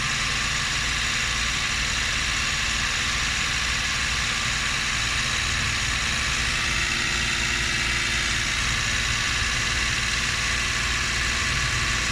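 A Suzuki Every Wagon DA64W engine, running while its cooling system is flushed, holds a steady raised rev near 2,500 RPM, a loud continuous drone with a constant engine hum and no break throughout.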